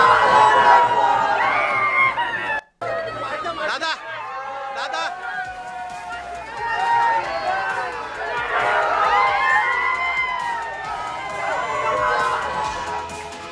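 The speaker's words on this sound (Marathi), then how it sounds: "सध्या कार्यकर्त्यांकडून जल्लोष साजरा केला जातोय।" Party workers celebrate Zilla Parishad election results in Raigad, Maharashtra, with a crowd cheering, shouting and chattering in a loud, continuous outdoor hubbub, briefly cut near the start and then swelling again.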